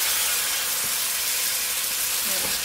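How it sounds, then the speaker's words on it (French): A flambéed dish with rice alcohol simmers in a pan, making a continuous soft hiss and steamy sizzle up close, with a few faint clicks near the end. "Voilà, ça va bien mijoter"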